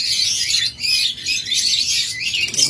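A pair of olive-yellow lovebirds, a locally bred breeding pair, chirping continuously in rapid, high-pitched overlapping bursts, close and fairly loud with no talk.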